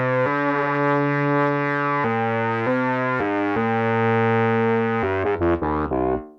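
A sustained synthesizer chord shifts through several changes, washed in a warbling, modulated lo-fi reverb that flutters and breaks up at the end.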